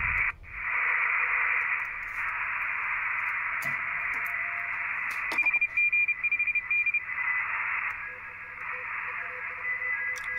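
Morse code CW tones on a Sparrow mcHF SDR radio receiver beep in short on-off bursts over a steady hiss of radio static, fairly faint against the noise.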